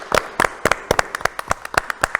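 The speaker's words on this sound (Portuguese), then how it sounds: "Vamos dar uma salva de palmas para esses caras aqui, não?" Applause at a Brazilian stage event, a brief burst of crisp, rhythmic hand claps from a small group, fairly close and clear, each clap sharp and evenly spaced, with no talking over it.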